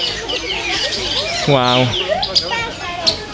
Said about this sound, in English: there's loads of different types of birds in here